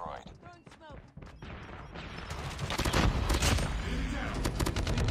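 Hip-fired gunfire in COD Mobile swells from a few sharp shots into a dense, loud, continuous burst, with a voice briefly heard at the start.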